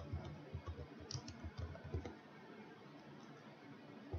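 A short burst of quick keystrokes on a computer keyboard as a name is typed, close and quiet, then a pause with faint room noise.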